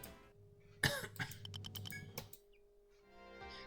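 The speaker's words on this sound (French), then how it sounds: "Désolé pour ma toux, ça doit pas être très agréable." One person coughs close to the microphone in a quiet indoor room: a sudden burst followed by a few rapid, rattling coughs trailing off over about a second and a half, with a faint steady hum underneath.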